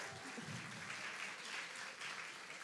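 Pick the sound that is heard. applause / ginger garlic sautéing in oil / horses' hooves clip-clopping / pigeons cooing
applause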